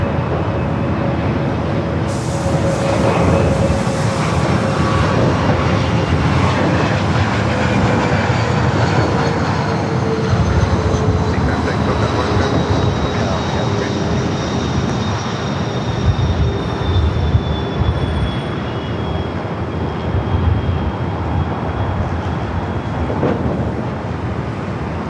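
A jet airliner comes in to land at LAX, its engine roar loud and sustained throughout, with a slowly shifting whine.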